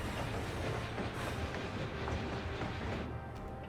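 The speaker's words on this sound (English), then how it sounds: "the train just stops like a car" Train in the video game Final Fantasy XIV running along its rails, a continuous rumbling clatter with rhythmic rail clicks at a steady level, easing off slightly toward the end, with no talking.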